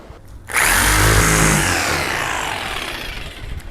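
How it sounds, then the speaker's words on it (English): A jigsaw cuts through plywood for a golf cart seat, starting abruptly after a brief quiet moment and then running as a loud, steady, buzzing saw close by for the rest of the clip, with no voices. "I'm going to get this set up outside with the jigsaw"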